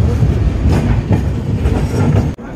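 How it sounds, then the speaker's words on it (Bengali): The Dhauli Express rolls out of Bhubaneswar station with a loud, steady rumble and rattling wheels on the rails, heard close from on board, ending in a brief dropout. "এবং কিছুক্ষণ হল্ট করে আমাদের ট্রেন ভুবনেশ্বর স্টেশন থেকে ছেড়ে দিল।"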